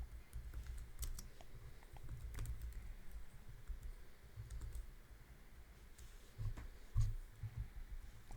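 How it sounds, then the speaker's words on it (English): Typing on a computer keyboard while writing socket code, with steady close-up key clicks running throughout and a few louder strikes near the end. "as I type out"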